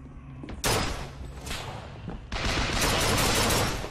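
Heavy gunfire in BioShock Infinite booms in loud bursts: a sharp blast, a shorter one, then a sustained rattling volley that fills the last stretch.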